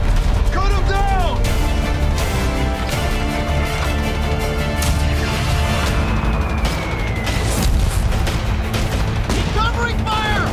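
Dense gunfire and repeated explosions in a World War II-style war video game battle, loud and continuous, with bursts of rapid fire and booms layered over music and shouted voices.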